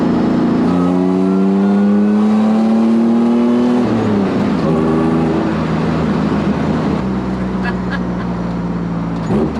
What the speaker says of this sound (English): whining of the superchargers, it's pretty fun actually.